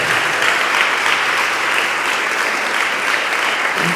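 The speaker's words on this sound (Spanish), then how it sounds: "Recibámoslo con un fuerte aplauso." Audience applause welcomes a former evangelical returning to the Catholic Church at a Padre Luis Toro gathering: dense, steady clapping from a large crowd, loud and unbroken throughout.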